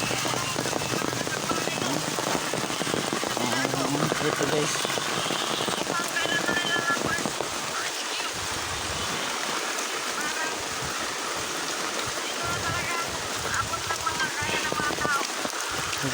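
Steady heavy rain pours down on a street, with a drain and roadside canal filling with water, a constant hiss and patter throughout while someone talks over it.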